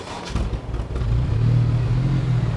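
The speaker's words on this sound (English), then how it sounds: "we'll start her up and let the car run until there isn't any smoke left" A car engine starts after a Seafoam treatment and settles into a loud, steady low rumble close by, with no talk over it.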